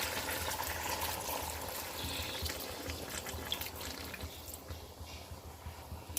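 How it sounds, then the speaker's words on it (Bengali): Water poured into a pan of simmering mutton curry cooked with tomatoes and oil, a steady, fairly quiet splashing trickle running throughout without pause. "এবার আমি এটা এখন জল দিয়ে দেবো"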